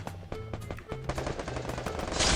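Rapid automatic gunfire in a 4v4 online shooter match, bursts of sharp shots fired in quick succession, loud and close, with game music and effects layered underneath.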